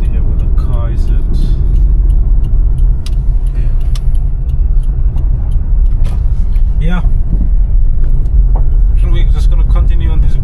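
A car rolls along a gravel road in rural Fiji, its engine rumble steady and close throughout, with a person talking over the noise.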